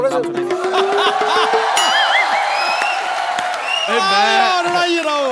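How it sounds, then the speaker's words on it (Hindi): Studio audience at a Hindi comedy talk show bursts into applause, cheering and whoops, loud and continuous through the whole stretch, with some voices rising above the clapping. "जोरदार तालियों से स्वागत कीजिए सोनाक्षी सिन्हा और जॉन अब्राहम का।"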